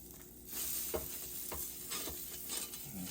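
Butter sizzles on the hot plates of a George Foreman grill, a soft continuous crackle with a few brief scraping or tapping sounds, fairly quiet and with no talking.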